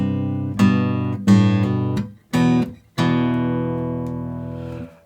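An acoustic guitar picked with thumb and two fingers plays the opening two bars of a song: four ringing plucked chords in phrases, the last left to sustain and fade, close and clear with no talking.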